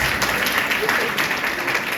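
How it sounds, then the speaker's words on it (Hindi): A seated audience at a spiritual talk claps steadily throughout, a dense even patter of hands at moderate volume. "इसके लिए ताली बजाना चाहिए"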